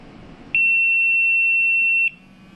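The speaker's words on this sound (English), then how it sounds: "It'll do that really loud beep." A Thermo Scientific radiation detector gives one loud, steady high-pitched power-on beep that holds for about a second and a half and then cuts off, with quiet room noise before and after.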